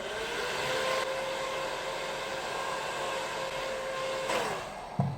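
A hair dryer blows steadily at close range while drying hair, a constant whooshing roar with a faint motor whine, shifting slightly near the end.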